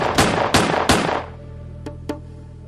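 Three loud, close gunshots in quick succession, each with a sharp crack and short decay, then two fainter distant shots after a pause, fired at Pablo Escobar on a rooftop.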